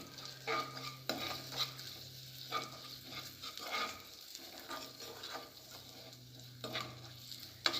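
Melted sugar caramelizing in a pan for chivda mix, stirred with a spoon: soft scraping strokes repeat at irregular intervals over a low steady sizzle, close and fairly quiet, with no talking.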